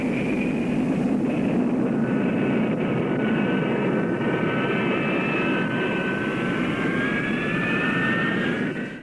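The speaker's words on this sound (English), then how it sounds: "Ground runs were conducted at both dry and afterburning thrust levels to validate the fundamental installation." A jet engine runs on the ground in an XF4D-1 Skyray naval interceptor prototype, a loud steady roar with a high whine that rises slowly in pitch and holds for several seconds before cutting off abruptly, with no voices.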